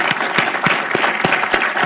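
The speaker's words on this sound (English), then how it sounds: "I'd like to ask everyone to join me in a round of applause to thank Ambassador Bolton" Audience applauding Ambassador Bolton at a policy event, dense sustained clapping filling the room, fairly loud and close, with a few sharp louder claps standing out.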